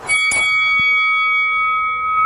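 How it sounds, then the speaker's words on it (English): A boxing-style bell struck once with a bright metallic clang, then a long, clear ringing tone that slowly fades, loud and close with no talk. "let's ring that bell"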